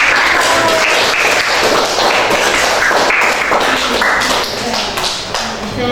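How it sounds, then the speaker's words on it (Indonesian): Applause from a class group, a dense, loud clatter of many hands clapping together that holds steady before easing slightly near the end. "Sekali ya, boleh tepuk tangan."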